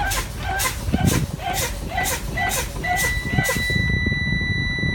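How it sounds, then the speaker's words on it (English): A truck's air brakes are fanned in a run of quick, sharp hissing bursts as the air pressure falls. Then the low air pressure alarm comes on as a steady, piercing buzz that keeps sounding alone. "you hear your low air pressure alarm come on"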